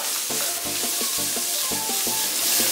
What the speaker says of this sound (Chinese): 先让把锅烧热，再把鸭肉倒进去，干炒掉一点水分